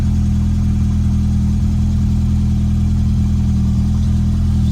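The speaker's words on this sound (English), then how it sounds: "There we go, we have idle." A Lotus Elan engine idling on carburettors, a steady, loud low-pitched hum that holds even and unbroken throughout.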